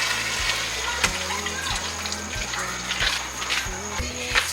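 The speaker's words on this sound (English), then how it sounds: "Add water." Water is poured into a cooking pot over pieces of cleaned raw lamb, a steady close splashing and running stream with a background hiss and low hum, no voices heard.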